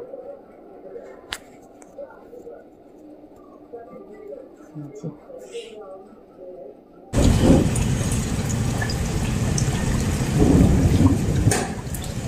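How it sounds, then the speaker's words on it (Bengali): A quiet stretch with a sharp thunder crack and people talking gives way abruptly to loud, heavy evening thunderstorm rain pouring in a dense, constant roar. "আর সাথে সেই রকম বিদ্যুৎ চমকাচ্ছে, ভিডিওটা করতেও ভয় লাগছিল।"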